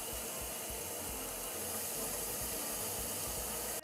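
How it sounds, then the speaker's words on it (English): Cold tap water runs steadily into a cooking pot of potatoes, a continuous close hissing splash that holds even throughout, with no talking. "You want to cover your potatoes with cold water."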